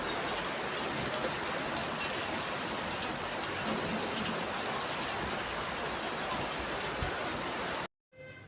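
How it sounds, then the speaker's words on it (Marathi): The season's first rain falls in a constant hiss of fine drops at moderate level for about eight seconds, then cuts off abruptly near the end. "तर हे बघा आता दुसरी वेळ चालू झालेली आहे पाऊस येण्याची."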